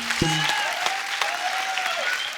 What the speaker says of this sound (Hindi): जोरदार तालियां मुझे